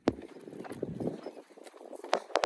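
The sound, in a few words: mare's hooves clip-clopping while walking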